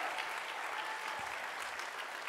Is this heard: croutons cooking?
no